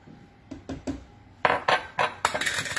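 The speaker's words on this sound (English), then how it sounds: "Whoops, as I throw the spatula." A spatula tossed down in a home kitchen, giving a series of sharp metallic clatters and clinks, a few quiet taps first and then louder rattling hits, close by with no talk.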